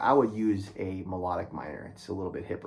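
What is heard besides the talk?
No everyday noise stands out behind the speech.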